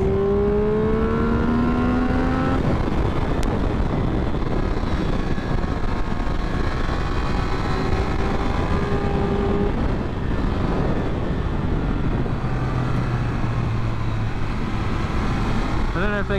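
A Triumph Speed Triple 1200 RR accelerates on a track lap, heard onboard with strong wind roar, the engine note climbing in long rising sweeps through gear changes, loud and continuous.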